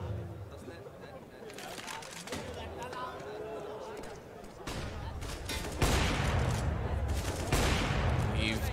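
Rapid bursts of gunfire from a CS:GO pro match between FaZe and Game Agents, with a caster talking steadily over it and the firing getting denser and louder toward the end.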